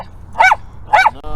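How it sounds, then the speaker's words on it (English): A leashed dog on a walk gives two sharp, loud barks about half a second apart, close by, with no talking over them. "Why are you guys barking?"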